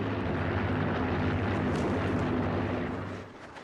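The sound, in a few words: airplane flying overhead, war film Stalingrad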